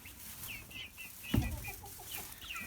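Chickens cluck and chirp in a coop with newer chicks among them, with scattered short calls throughout and a single dull knock partway through, close by and with no talk.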